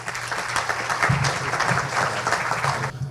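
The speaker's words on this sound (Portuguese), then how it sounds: "Por favor, uma salva de palmas para o Vinícius." Audience applause at a digital business forum panel, a steady burst of clapping filling the room for about three seconds before cutting off, with a faint murmur of voices underneath.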